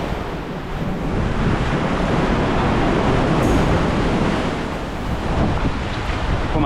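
Sea waves surge and break steadily on Survival Beach in Puerto Rico, a loud continuous roar of surf with wind buffeting the microphone and no voices.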